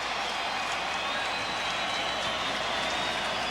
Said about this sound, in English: The crowd on its feet waving the rally towels.